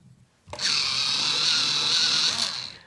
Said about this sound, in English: And then this one, of course, needs a quick sharpen.